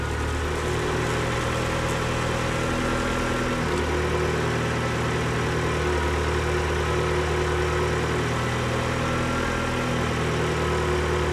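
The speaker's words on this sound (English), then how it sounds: "the engine is working much more better" A car engine idles steadily after a repair for fault codes, a continuous low rumble with an even mechanical hum and no talking throughout.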